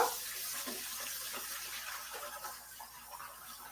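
Kitchen tap water runs steadily into a pot of rice being rinsed, a close, constant splashing hiss with slight swirling variations and no voices throughout.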